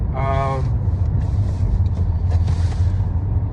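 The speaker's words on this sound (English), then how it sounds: "So this car is jumping the queue." Car passing in queued traffic, a steady low rumble throughout with a brief harmonic engine whine early on; a voice is heard faintly at the start.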